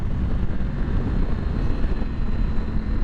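A 2023 Triumph Tiger 900 GT Low motorcycle engine at full throttle, a loud, steady, dense roar mixed with wind rush, heard up close from the rider's position throughout.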